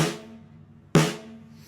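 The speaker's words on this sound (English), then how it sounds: "without it, it rings a lot more." A Pearl snare drum with no damping struck twice, about a second apart, each hit loud and close with a sharp crack and a long ringing tone that rings on and fades slowly.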